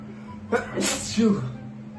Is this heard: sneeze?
yes